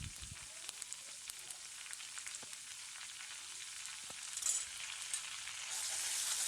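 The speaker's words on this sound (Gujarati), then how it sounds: "બધું જ મિક્સ કરી લઈએ, એને પ્રોપર સંતળાવા દેવાનું છે" A pinch of asafoetida and some turmeric sautéing in hot oil as a tempering for Kathiyawadi dahi tikhari: a soft, continuous sizzle with light stirring ticks that swells louder toward the end, with no voices.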